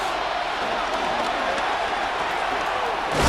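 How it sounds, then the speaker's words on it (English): A dense, roaring stadium crowd keeps up steady loud noise before a 3rd-and-inches snap in Madden NFL 26, building slightly toward the end. "This crowd, they're trying to force a false start. What noise before 3rd and inches."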